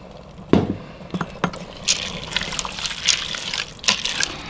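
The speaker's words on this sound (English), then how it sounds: "a couple cups of water." Water is poured into a SimPot holding tri-tip chili with kidney and pinto beans, an uneven splashing pour with a few knocks and gurgles, close and moderately loud with no talking.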